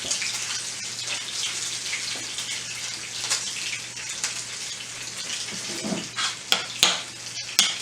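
Spoonfuls of salmon patty mixture dropped into a hot skillet, giving a loud continuous frying sizzle, then several sharp spatula taps and clatters near the end.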